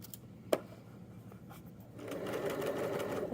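After a soft snip near the start, a sewing machine starts up and stitches steadily along jogger leg bands, its close, even whir continuing to the end.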